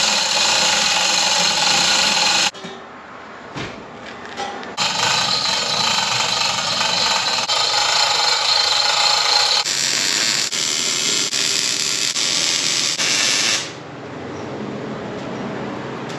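Welding on a small block-off plate gives a loud, steady, crackling hiss in two long bursts separated by a short quieter pause, then trails off to a softer background.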